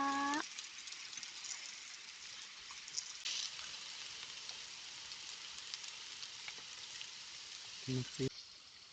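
Pork sizzles on a Thai mookata grill pan outdoors in a sunny backyard, giving a steady, close crackling hiss throughout, with a voice heard briefly at the start and near the end.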